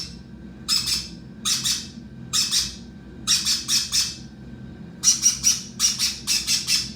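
A baby parrot squawks loudly in repeated harsh bursts, single calls and then quick clusters of rapid squawks, close and prominent over a low background hum.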